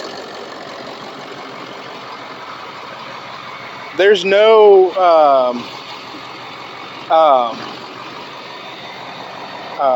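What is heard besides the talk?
truck engine idling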